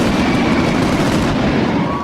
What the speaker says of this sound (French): Individuellement, les fontaines sont des feux d'artifice plutôt basiques.